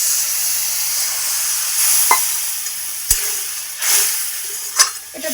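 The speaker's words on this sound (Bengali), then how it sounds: "কষানো হয়ে গেছে, এবার জলটা দিয়ে দেবো।" Water goes into sautéed banana flower in a hot pan, giving a bright, loud hiss and sizzle with a few hissing surges and sharp knocks of utensil on pan, and no one talking.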